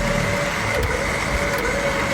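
Revved engine of a 2021 Mitsubishi Triton straining during a winch recovery, a steady loud rumbling drone with a thin whine layered on top, continuous from start to finish, with no voices.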